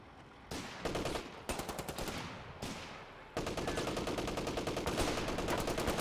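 Battlefield gunfire in Company of Heroes 3, with artillery called in: dense rapid bursts of shots in loud blocks, broken by brief pauses, then a sustained stretch of continuous firing.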